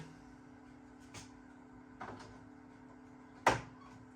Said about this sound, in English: Click your line in like so.